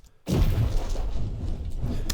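An artillery blast used in explosion sound design: a single heavy boom hits after a brief silence and rolls on as a loud, low rumble to the end.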